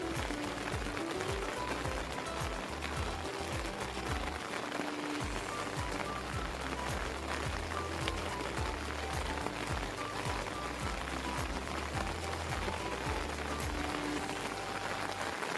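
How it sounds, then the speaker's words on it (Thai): Steady rain pours down on a boat without pause, a dense hiss of drops pattering on surfaces, with no other sounds standing out. "ฝนมาแล้ว"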